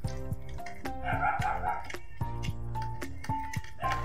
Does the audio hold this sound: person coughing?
no